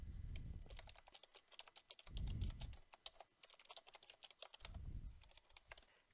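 Keyboard typing while filling in form fields in a web portal, a steady run of quick clicking keystrokes with brief pauses, close and fairly quiet, with low dull thumps at three points and no talking.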